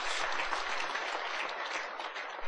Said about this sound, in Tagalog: Palakpak kini Jesus.